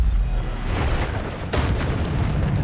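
Bombardo spell explosions in Hogwarts Legacy, two booming bursts over a low rumbling background, each a quick loud blast that fades into the continuing din.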